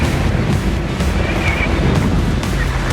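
Steady wind roaring and buffeting against the microphone during a fat bike ride, continuous and loud throughout with no talk.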